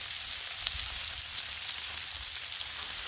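Bacon fries on a Blackstone griddle with a bright, even, continuous sizzle. It is close and steady, with no voices and only faint crackles in the hiss.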